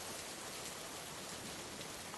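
Steady rain falls at night as a soft, even hiss, faint and unbroken throughout with no voices.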